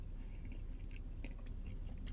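Faint, close biting and chewing of a Krispy Kreme apple fritter doughnut, with soft crunchy bites scattered over a quiet background.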